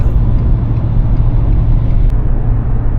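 A pickup truck with a 7.3 Godzilla gas engine tows an 8300 lb trailer, giving a steady low engine drone with constant road rumble throughout, close and loud, with no talking.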